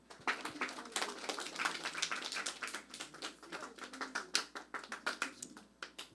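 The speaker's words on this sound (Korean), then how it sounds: "박수 한번 쳐주세요" Scattered clapping from a church congregation during a Sunday worship service, a moderate burst of uneven hand claps lasting several seconds with no talk over it.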